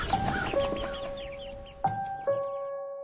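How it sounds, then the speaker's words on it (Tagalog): Chicks and crows call outdoors in the rain, heard as a run of thin, high cheeps followed by a few clear, drawn-out tonal calls at moderate loudness, with no talking. "Patuloy ang huni ng mga sisiw at uwak sa labas habang napakalakas ng buhos ng ulan."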